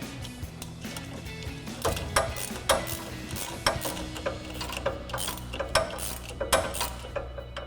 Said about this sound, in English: I'm going to take that same 18mm pass-through socket and an 8mm socket to tighten down our nut